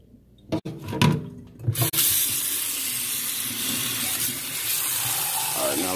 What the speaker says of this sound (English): I guess you just pour this down the sink.